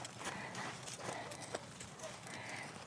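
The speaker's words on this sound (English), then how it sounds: "So I'm going to just trot him around." A horse trots on a lunge line in an arena, its hooves clip-clopping in a quick, even rhythm at close range, with a voice faintly in the background.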